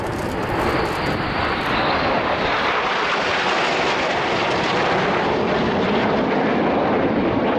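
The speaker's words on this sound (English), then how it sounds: "Each of those pilots flying an aileron roll manoeuvre" Red Arrows jets flying an aileron roll at the Royal International Air Tattoo, a loud sustained roar of jet engines that swells and shifts as the aircraft pass overhead, with no voices.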